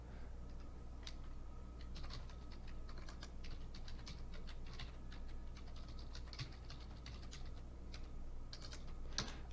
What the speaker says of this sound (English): hey, I'm typing here.